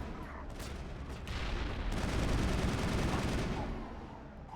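A grenade explodes in the Mass Effect video game, producing a loud, sustained rumbling blast with heavy low-end roar that swells and then fades over several seconds, accompanied by crackling debris.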